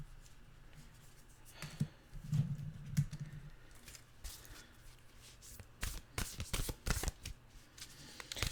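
Nature's Whisper oracle cards are shuffled close by, with soft riffling and flicking taps that build into a burst of rapid, crisp snaps toward the end.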